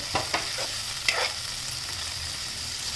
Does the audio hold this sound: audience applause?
no